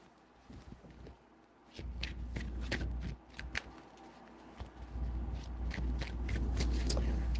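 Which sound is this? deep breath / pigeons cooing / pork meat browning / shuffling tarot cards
shuffling tarot cards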